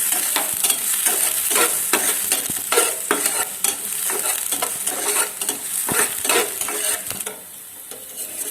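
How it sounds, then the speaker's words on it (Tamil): Onions stir-fry in hot oil for an egg masala roast, giving a loud, steady sizzle broken by repeated scraping strokes of a spoon against the pan. No voices are heard. "இப்போ இதை எண்ணெயில நல்லா ஃப்ரை பண்ணிக்கோங்க"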